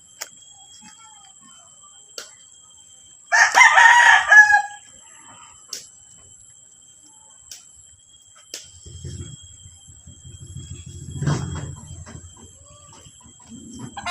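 A rooster crows loudly nearby, followed by soft clucking and low chicken murmurs, with a few faint clicks in an otherwise quiet background.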